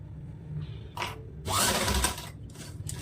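An electric sewing machine stitching the neckline of a princess-cut blouse runs in short bursts, with a brief whir, then a longer steady buzzing run and a final short burst, loud and close with no talking.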